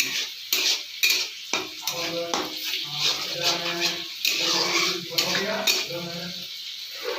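Masala sautéing in a pan for a village-style fish curry, with close metallic stirring and scraping strokes over a soft sizzle and faint background voices.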